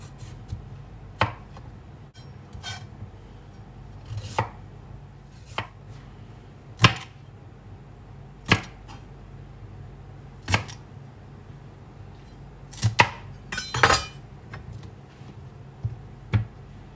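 Knife slicing carrot and celery stalk on a cutting board, sharp separate chops spaced irregularly at a slow pace, close and crisp against a quiet room.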